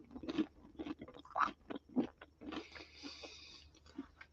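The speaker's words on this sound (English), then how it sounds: "This is a super crunchy bit of crust, but I want to bite into that so you can hear the crunch." Several crisp bites into the crunchy crust of a homemade caramelised onion no-knead tray bread, close-up crunches followed by chewing, with no talking.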